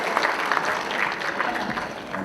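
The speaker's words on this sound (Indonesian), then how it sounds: "kita berikan tepuk tangan yang meriah untuk Bapak Hidayat Nur Wahid" An audience claps for Hidayat Nur Wahid at a literary solidarity event for Palestine, a steady, dense burst of applause in a hall that carries on evenly throughout.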